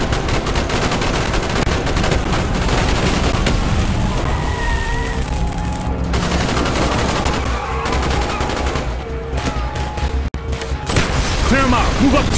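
Dense gunfire from a street fight in the Call of Duty: Black Ops campaign, with continuous rapid bursts and heavy shots under game music and voices.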